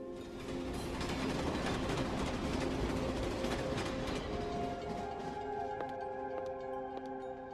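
A train passes on a railway beside wide rice fields with a steady rumbling roar and faint metallic squeals, heard from some distance and slowly fading.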